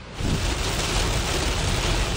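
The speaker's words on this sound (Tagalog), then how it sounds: "Malakas na buhos ng ulan ang naranasan ngayong hapon sa probinsya." Heavy rain pours during flooding in Camarines Sur, a dense, even broadband hiss that rises after a brief quieter moment and stays constant throughout.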